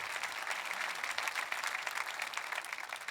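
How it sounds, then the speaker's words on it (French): Congregation applause during a church service, dense and sustained clapping from many hands that carries evenly at moderate volume for a few seconds without speech. "Vous devriez applaudir pour quelqu'un près de vous qui est loin"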